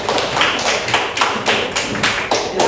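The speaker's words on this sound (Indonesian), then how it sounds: "Kita kasih aplaus" An audience in a physics lesson gives a short, even burst of clapping. Many hands beat out quick, rhythmic claps close by, and the sound stays steady for a few seconds with no talking over it.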